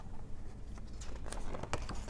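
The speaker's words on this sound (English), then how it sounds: "Now the rain." Rain sound effect in a children's story episode: a brief, soft patter of scattered drops over a low hiss, quiet and with no voices.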